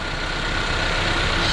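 A Daewoo Matiz Creative small car engine runs steadily at close range, a constant loud drone with no change in pitch.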